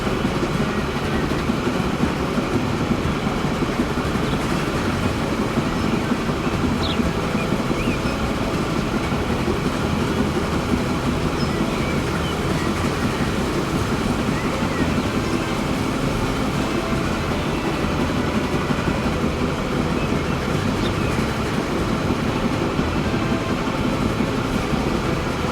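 A train runs steadily on a railroad in Transport Fever 2 on Xbox Series, a continuous loud rumbling roll with faint clickety-clack and no talk.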